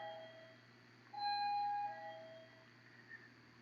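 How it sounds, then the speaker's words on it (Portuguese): A doorbell rings faintly in the background of a live stream, a short electronic chime sounding once over a quiet room hum. "Tá tocando a campainha."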